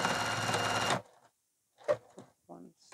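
A sewing machine stitches a seam with frequent back stitching, its motor running loud and steady for about a second before stopping abruptly, followed by a short pause and a few brief spoken words close by.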